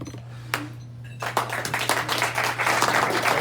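Applause from a meeting audience after a speaker is called to the podium; a brief clap, then dense, sustained clapping that fills the room over a low steady hum.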